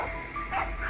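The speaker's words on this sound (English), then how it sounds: "the hound's barking erupted nearby" Hunting dogs bark and yip at a cornered wild boar nearby. The brief, strained canine cries rise out of a rough, busy outdoor background.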